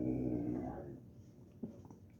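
Wolfie, a pet dog, gives a close, low grumbling growl that fades out, followed by a single short yip; there are no voices.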